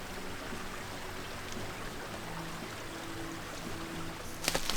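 A brook flows beside an old New Hampshire house site, its steady broadband rush of water constant and close throughout, with a brief clink just before the end.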